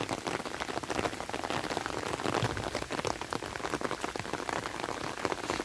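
Steady rain pours down outdoors beside spectator stands at an outdoor nature-study area, a dense, continuous patter of drops close by and even in loudness throughout, with no voices.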